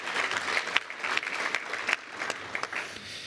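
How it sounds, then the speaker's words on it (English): A room of guests at a Boeing and Washington State University gift celebration breaks into steady applause, a dense patter of many hands clapping for a few seconds with no voice over it. "I think that deserves a round of applause"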